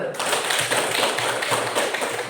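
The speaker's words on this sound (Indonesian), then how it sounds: "Tepuk tangan dulu" Students in a classroom clap together, a brisk, even patter of many hands that fills the short stretch at a steady level.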